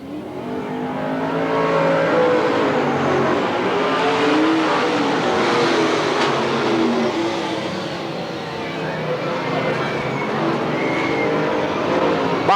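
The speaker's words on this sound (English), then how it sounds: "Here comes the 98 car, Jeffrey." Race cars roar continuously around the Willamette Speedway oval in 1991, their engines droning loud and steady with rising and falling revs as the pack circles the track.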